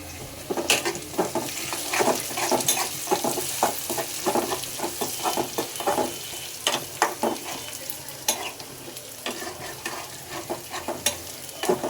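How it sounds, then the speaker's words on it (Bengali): Onions fry in a pan until reddish, giving a continuous close sizzle broken by frequent scraping clicks as they are stirred. "পেঁয়াজটা লাল লাল করে ভাজা হয়ে গিয়েছে"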